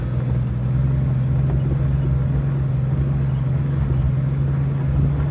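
A 1988 Jeep Wrangler Sahara climbs a steep hill in four-wheel drive on road tires, its engine holding a steady, low droning hum that stays even and close throughout.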